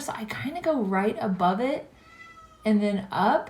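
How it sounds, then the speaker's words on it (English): A cat meows repeatedly and insistently, close and loud, its cries mixing with someone talking through a makeup tutorial. "If you hear the cat meowing"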